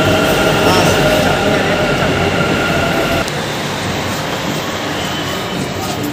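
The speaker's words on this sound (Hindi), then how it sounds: "आ गया रहा मेट्रो," A metro train in Bangalore roars loudly nearby, a dense rumbling and rushing noise with faint squeals, steady throughout and easing slightly midway.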